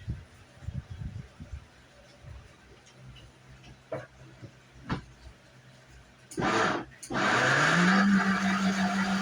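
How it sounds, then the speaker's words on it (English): A kitchen blender starts up and runs steadily, whirring loudly as it blends mushroom pieces into a slurry for a lion's mane and shiitake tincture, after some quiet handling noises and brief bumps. "I'm going to put that in the blender real quick."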